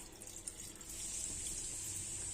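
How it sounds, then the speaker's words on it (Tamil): Water runs steadily from a tap into a pot for mutton biryani; the flow strengthens after a moment and continues evenly, close by and fairly quiet. "தேவையான அளவுக்கு தண்ணி ஊற்றிக்கலாம்."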